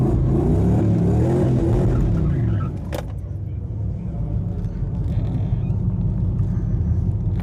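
A 1986 Monte Carlo and a silver Subaru Forester drag race, heavy engine roar and rumble dominating the first few seconds, then a steady lower drone of motors at a track. Loud and continuous; a brief clank near the middle.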